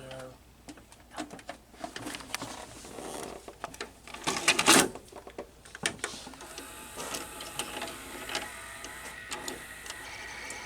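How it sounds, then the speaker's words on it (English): Daytron VCR-32DAU video cassette recorder's tape mechanism whirring and clicking, with a noisy capstan motor; busy mechanical ticking and rattling at close range, with a louder burst midway. "The mechanism actually sounds quite different, and this is one of the issues that it has. Listen, the capstan motor is noisy."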